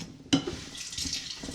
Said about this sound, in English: Looks like the water's coming in.